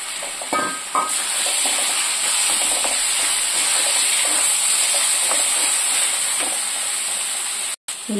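Onions sizzle and fry in hot oil for a chicken fry, a steady loud hissing crackle that runs throughout with a few light stirring clinks early on and a brief cutout near the end.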